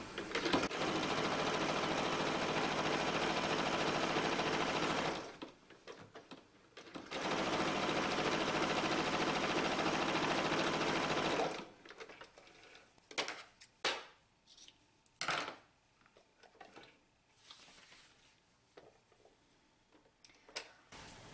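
Sewing machine stitching a denim purse strap, two long steady buzzing runs broken by a short pause, then quieter clicks and handling noises as the strap is turned.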